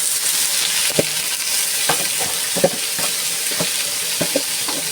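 Bitter gourd (ampalaya) hisses in a hot pan with a loud, continuous broadband sizzle, while a spatula scrapes and taps at irregular intervals.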